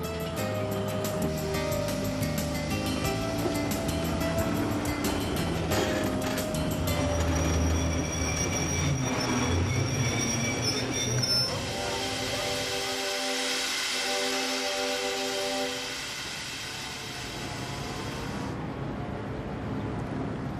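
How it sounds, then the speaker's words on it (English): A train pulls into Mallaig station on the West Highland line, a steady rumble of wheels and carriages with tonal squeals, easing off toward the end as it comes to a stop; no talk. "the train arrives at Mallaig."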